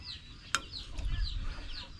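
Village chickens clucking close by, a few soft rhythmic clucks with one sharp squawk, over low background rumble.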